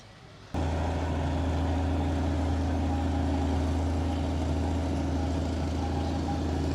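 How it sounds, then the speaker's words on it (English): A diesel-powered Foden traction engine with a Gardner turbo engine starts up and runs with a steady, low, even drone, close by and constant, with no voices. "Diesel powered traction engine, the Gardner engine Foden"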